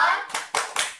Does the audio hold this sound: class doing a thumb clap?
yes